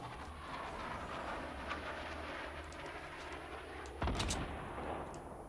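Distant booming blasts and rumbling explosions from homing rocket fire in the console Fortnite video game, a continuous low roar with a sharper impact burst partway through.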